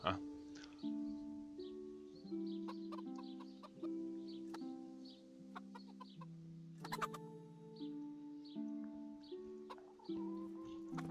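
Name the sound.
roosters crowing in the video game Kingdom Come: Deliverance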